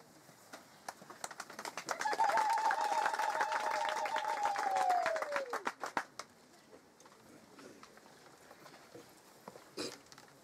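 A crowd claps for several seconds at a youth peace gathering in the Democratic Republic of Congo while a long whistle slides downward over it; the applause fades to a few scattered claps.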